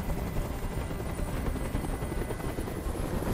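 In the video game Detroit Become Human, a helicopter hovers nearby with a loud, continuous rotor thrum and roar, steady throughout and without speech.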